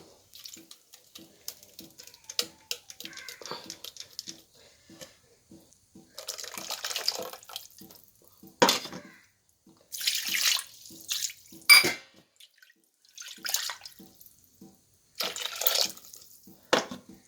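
Water splashes and trickles into a pot of masala for stingray fish theeyal in several bursts, with a steady faint ticking underneath and quiet gaps between pours.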